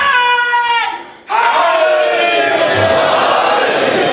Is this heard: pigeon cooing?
no